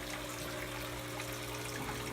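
A large aquarium wave maker pushing fast-moving water across the top of a hillstream loach tank, producing a dense, constant rushing wash with a low steady hum beneath, loud and close.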